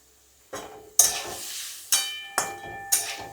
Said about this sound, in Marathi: मला खूप जल्दी आहे म्हणून मी फा फटाफट करते फ्राय जरा एक्स्ट्रा टाकून